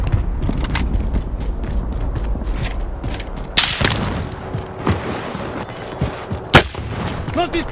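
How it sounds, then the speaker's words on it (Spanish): Repeated loud gunshots in a battle royale video game, some sharp and close and others distant, over dense, continuous game noise and rumble. "¡Nos disparan!"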